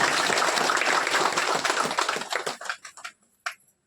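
Applause from an audience at a Sarna prayer gathering in Chhattisgarh, dense and steady for a couple of seconds, then thinning into a few scattered claps before fading out.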